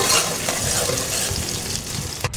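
Onions fry in a pan until brown, a dense continuous sizzle broken by soft stirring strokes, close and fairly loud with no voices.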